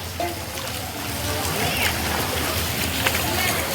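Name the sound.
heavy rain falling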